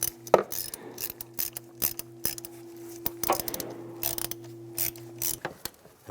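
A ratchet tightens a bolt on a Cadillac SRX fuel pump, clicking in quick, uneven runs of pawl ticks close up, over a faint steady hum.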